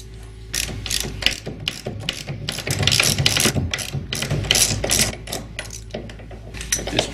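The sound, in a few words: jack stands being turned to raise a Steinway piano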